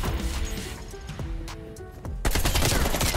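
Rapid automatic gunfire from a first-person shooter video game, loud and close, crackling in dense bursts with brief gaps and a heavier volley at the end.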